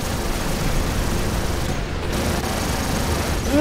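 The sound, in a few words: gunfire in the video game War Robots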